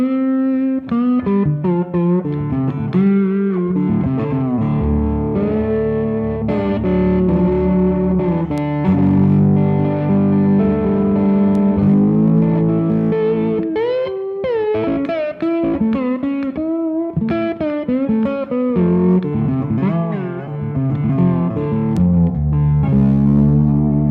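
An IronSlide lap steel guitar on its neck pickup plays a continuous melodic passage with sliding notes and sustained chords, loud and close with no talking.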